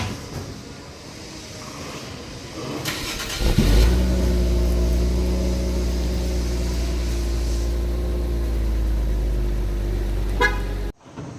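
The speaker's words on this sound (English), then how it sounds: "how the car sounds like without mufflers and stock cats and everything" Infiniti Q50 Red Sport with a muffler delete and stock cats, starting up with a sudden loud exhaust burst, then settling into a steady, deep, close idle drone that cuts off abruptly near the end.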